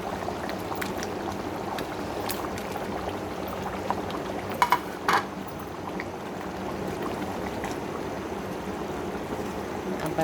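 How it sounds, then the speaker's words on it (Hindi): Chicken kofte meatballs dropped into a simmering curry of fried masala and half-cooked potatoes in a pot, a steady bubbling, sizzling wash broken by a few soft plops and knocks near the middle. "अब मैं इसमें ये बिस्मिल्लाह करके कोफ्ते डाल दूँगी"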